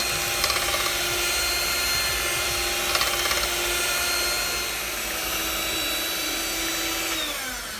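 An electric beater whips eggs at maximum speed for lemon cake batter, making a continuous close motor whine with faint rattles against the bowl. The pitch drops slightly near the end.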